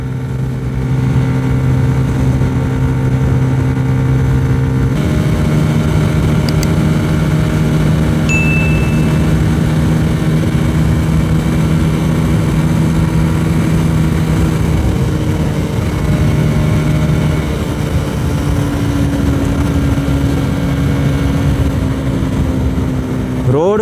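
A motorcycle fitted with a quickshifter rides along a road, its engine a steady, loud drone with abrupt pitch steps at clutchless gear changes, while a rider talks over the engine throughout.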